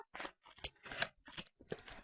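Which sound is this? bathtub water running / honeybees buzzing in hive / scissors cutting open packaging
scissors cutting open packaging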